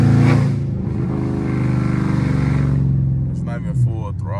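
A Dodge Charger SRT8's V8 pulls hard under acceleration, a loud, deep rising roar from inside the car, with someone talking over it near the end.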